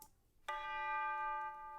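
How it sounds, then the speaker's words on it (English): A sampled orchestral tubular bell from the BBC Symphony Orchestra library, used at the end of a pop song's chorus, strikes once and rings on as a bright, sustained chime with clear overtones, then fades slightly. "we have like a tubular bell sound"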